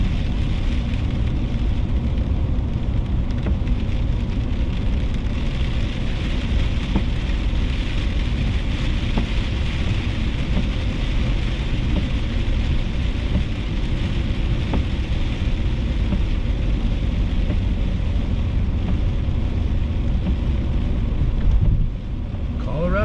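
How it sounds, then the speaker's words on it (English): Rain falls on a dually truck during a sun shower on Ophir Pass, a steady wash of patter and hiss over a low engine rumble, continuous and fairly loud. "it's raining pretty good in this spot right up ahead of us"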